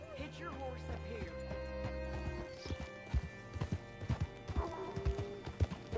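A horse whinnies and snorts near at hand, then its hooves clip-clop in an irregular walking rhythm, with music playing underneath and a voice speaking.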